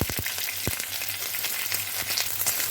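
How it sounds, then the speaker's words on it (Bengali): Chopped onion and curry leaves frying in a pan for a pumpkin chhechki, with a steady close sizzle and a few sharp scraping stirs near the start and through the middle, no one talking. "পেঁয়াজটা একটু নাড়াচাড়া করে নেবো"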